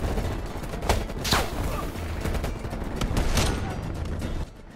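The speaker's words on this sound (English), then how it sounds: "Okay, shoot this guy." Gunfire in the video game Call of Duty Black Ops Cold War, several sharp shots and bursts popping over a dense, steady bed of game noise, moderately loud throughout.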